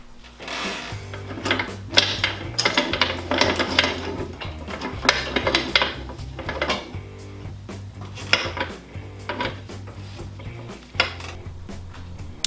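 Metal chain links clink and rattle in irregular bursts, close by, as the chain is hooked to a Jeep 4.0 engine's lift points, with scattered sharp clanks and a low hum underneath.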